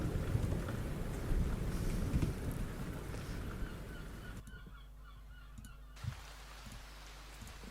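A rain background sound sample, dense hiss and patter with low rumbling, loud at first, then thinning to a quieter stretch before the wash returns.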